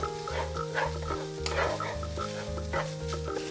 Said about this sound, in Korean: 달걀을 넣자마자 휘저어 익히면서 두부와 섞어 두부에 계란을 코팅시켜줍니다.